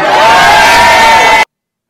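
A loud crowd at a rally for Kamala Harris cheers and applauds in a steady roar with whoops rising above it, then cuts off abruptly.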